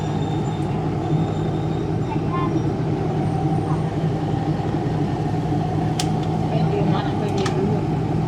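A third-class train at a railway station in Thailand produces a loud, steady rumble and hum throughout, with a few brief metallic clicks and squeals near the end.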